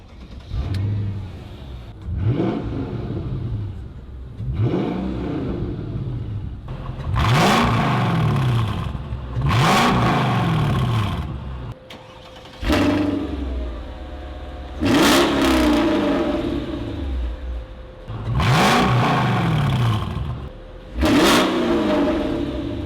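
A Mercedes E55 AMG's engine gives repeated loud exhaust revs, each rising and falling in pitch over a steady idle rumble, with roughly eight blips spread across the stretch and brief pauses between.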